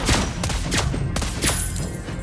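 A player's gun firing bullets in a video game: a few quick, punchy bursts of shots in steady succession, loud and close with no voice over them.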